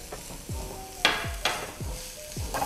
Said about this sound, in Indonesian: Kita tumis bombay dan bawang putih.